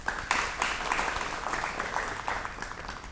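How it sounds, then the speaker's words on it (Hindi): A studio audience claps for a guest on a Doordarshan health programme, a steady moderate patter of many hands running the whole stretch with a few louder swells. "आप सभी से मेरी गुजारिश है कि डॉक्टर मान सिंह की हौसला अफजाई के लिए एक बार ज़ोरदार तालियां"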